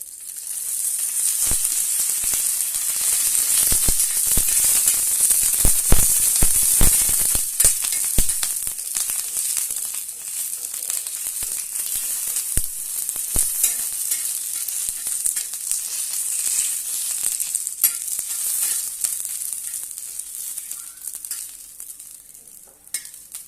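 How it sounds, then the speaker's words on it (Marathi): Green chillies roast in a little oil for raw mango thecha, a loud continuous sizzle and hiss with repeated scraping stirs and clicks of a spatula against the pan throughout. "आता आपण छानपैकी भाजून घेऊया थोडंसं तेल टाकूया"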